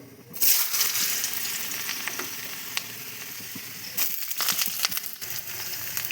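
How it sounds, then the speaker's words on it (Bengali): Potatoes fry in hot oil in a wok with dried chillies, cardamom and cinnamon for ghugni, a loud steady sizzle starting after a brief quiet moment, with a few sharp crackles and a renewed burst near the end. "দিয়ে দেব আলু"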